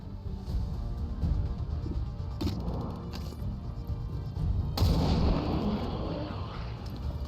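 Gunfire aimed at alien creatures in XCOM 2, with sharp shots and a heavier blast over a steady low rumble of battle noise; no speech.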